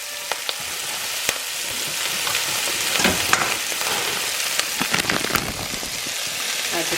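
Vegetables sweat gently in a pan with a soft, even sizzle and faint crackling, with occasional utensil taps and a voice speaking briefly over it.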